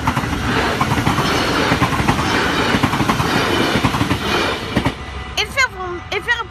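A green train passes close by at Nuth in the Netherlands, a loud continuous rumble with rhythmic clickety-clack of wheels over rail joints. The noise fades near the end, when a voice speaks.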